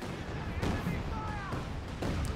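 Rocket artillery from a Land Mattress launcher in Company of Heroes 2 fires in a quick series of sharp bursts, roughly every half second, over continuous battlefield rumble and a faint high whistle.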